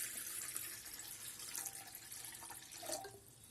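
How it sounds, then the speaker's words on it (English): Water poured into an electric kettle for cooking vermicelli upma, a faint splashing trickle with a brief gurgle near the end, close but quiet. "Add some water."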